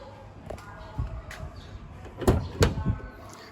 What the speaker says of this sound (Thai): เมื่อเปิดประตูบริเวณทางฝั่งผู้ขับขี่นะครับ